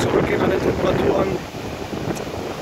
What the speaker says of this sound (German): aber sehr windig heute